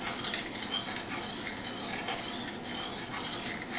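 A mixture stirred in a bowl while making an easy party dip, giving a steady, close scraping and swishing that runs continuously without pauses.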